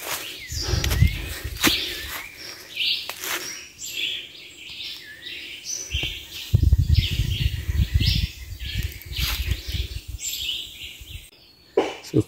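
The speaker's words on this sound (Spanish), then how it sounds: "Miren qué bonitos los pajaritos." Small birds chirp in quick, scattered bursts over a rustling outdoor background, with occasional louder thumps and footsteps nearby.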